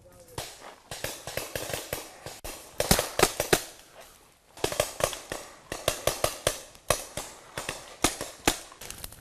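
Rapid bursts of simulated battle gunfire and sharp pops crackle in irregular clusters, with a few heavier grenade bangs, loud and close, continuing throughout.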